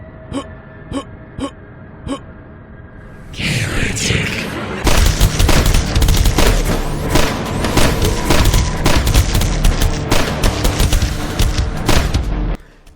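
Rapid gunfire and meaty impact splats from the retro shooter Dusk, with a few sharp isolated shots at first, then a loud, dense barrage of blasts and hits running continuously to the end.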